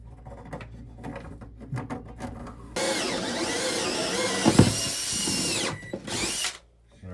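A power drill bores a hole while an incineration toilet is being installed, starting after some quiet handling noises and then whining loudly and steadily at close range for about three seconds before stopping abruptly.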